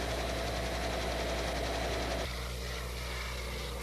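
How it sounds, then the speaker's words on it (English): A Vietnam War gunship's motor drones steadily up close, a throbbing engine hum with a whining tone that drops away midway as the pitch and roar shift to a lower rumble. "Aboard the gunship, the noise of the motor, which was loud, seems almost quiet."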